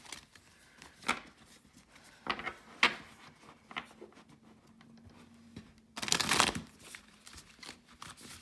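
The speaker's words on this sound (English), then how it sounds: "we need to do a big shuffle here" Tarot cards shuffled by hand in a series of quick riffling and slapping bursts, close and fairly quiet, with one longer, louder riffle near the end.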